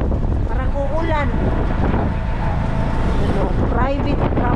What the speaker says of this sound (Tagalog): Ngayon ang lakas ng hangin.